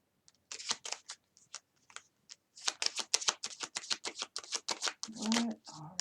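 Tarot cards being shuffled by hand, a run of quick, close papery riffles and taps in bursts, fairly quiet, with a short hum of voice near the end.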